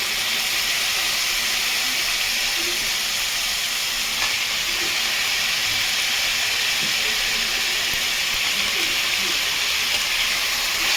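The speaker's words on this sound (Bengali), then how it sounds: "এবার আমি পেঁয়াজটা দিয়ে দেবো। পেঁয়াজ এর সাথে ফ্রাই হতে থাকবে।" Onion fries in a pan for chilli chicken fried rice, giving a loud, even, hissing sizzle that runs unbroken throughout, with no talk.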